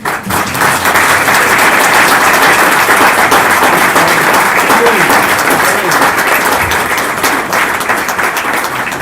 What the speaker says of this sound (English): We're going to do a clap in